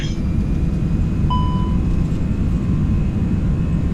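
Airliner engines spool up to takeoff power in the X-Plane 11 flight simulator, a dense steady roar with a thin rising whine laid over it, loud and continuous.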